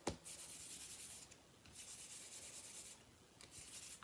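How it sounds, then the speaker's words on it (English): An embossing buddy rubbed back and forth over cardstock while making snowflake cards, a soft, quiet scratchy swishing in several strokes with brief pauses, close and alone. "now I gotta remember the embossing buddy. So we got our embossing buddy."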